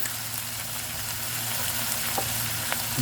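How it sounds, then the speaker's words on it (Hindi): Masala spices frying in a pan for a tuna dish, a steady close sizzle and hiss with a couple of faint stirring taps, no voices. "मसाला भूनते ही मसाले की फेस उठ रही है।"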